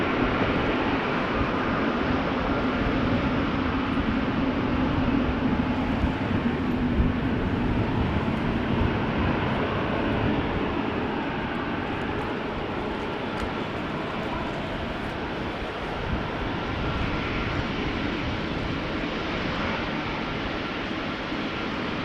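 An Airbus A321 airliner takes off at Amsterdam Schiphol, a sustained, even roar of jet engines heard from a distance for over twenty seconds, alone without talk.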